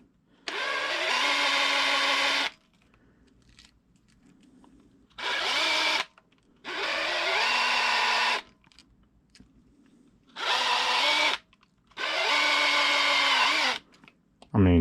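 A drill bores a hole in metal for a Redcat Kaiju upper arm mod, running in five loud, whining bursts of one to two seconds each, separated by short quiet pauses.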